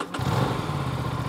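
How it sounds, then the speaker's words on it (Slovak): Aprilia RS 457 motorcycle engine running steadily with a low, throaty drone and a slight rise in revs, loud and close, with no talking over it. "Čo sa týka zvuku motocykla, ktorý akurát testujeme, čiže Aprilia RS"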